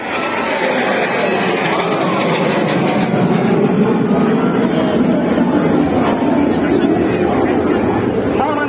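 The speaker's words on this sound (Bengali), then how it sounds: "রাষ্ট্রপতিকে এইমাত্র মিগ-29 যুদ্ধ বিমানটি ফ্লাইং স্যালুট করলো।" A MiG-29 fighter jet makes a flying-salute flyover at a ceremonial display, its engines producing a loud, sustained roar that swells steadily across the whole stretch without a break.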